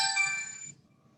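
A mobile phone ringtone chimes briefly indoors, a bright melodic tone that cuts off abruptly after under a second, leaving faint room noise.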